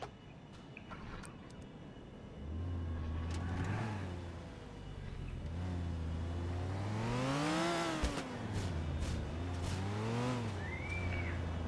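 Cars in the game GTA The Ballad of Gay Tony multiplayer, engines revving up and down in repeated sweeping pitches as vehicles accelerate and pass close by, loud and continuous with a brief screech.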